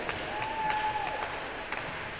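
A church congregation applauds a preacher at a Sunday service, a faint, even wash of clapping heard from a distance, with a thin whistle-like tone briefly rising above it.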